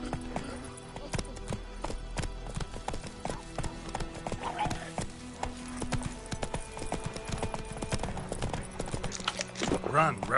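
Roach, the horse in The Witcher 3, gallops with steady rapid hoof clip-clops that run throughout, joined briefly by a whinny, while someone talks over the top.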